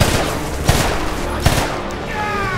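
Machine gun fire in the shooter game Homefront comes as loud rattling bursts with two sharp heavy thumps, then a brief high whine near the end, no talking.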